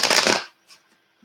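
Tarot cards get shuffled in one quick, crisp riffle up close, followed by a couple of faint soft taps in near silence.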